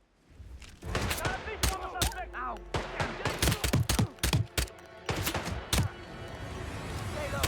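Gunfire in the Hitman video game rings out in rapid, loud bursts of many sharp shots, sometimes clustered and sometimes spaced, with a player's voice speaking now and then between them.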